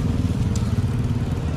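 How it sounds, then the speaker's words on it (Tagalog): Small mixer motor rumbling steadily with a low, continuous drone that carries a slight rattle, running up close for the whole stretch. "May motor naman ang mixer eh."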